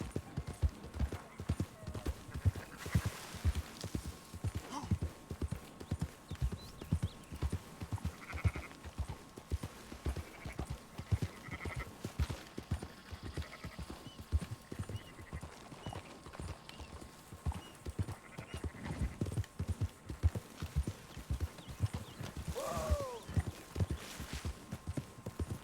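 Horses trot in Red Dead Redemption 2, their hooves clip-clopping in a steady rapid rhythm throughout, while sheep bleat now and then in the background.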